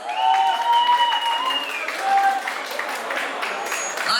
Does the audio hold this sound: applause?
yes